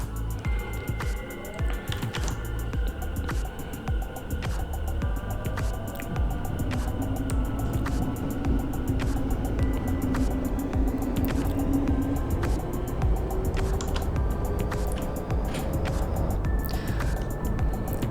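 A Tōkyū Tōyoko Line electric train in the BVE train simulator pulls away and picks up speed, a rising motor whine climbing steadily over rumbling running noise, with scattered clicks and key presses on top.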